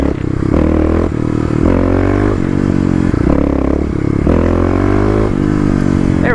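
A Kawasaki KLX351 trail bike engine being throttled: repeated surging revs that climb and drop in pitch several times, loud and close, with a rough, buzzing single-cylinder note and some mechanical clatter.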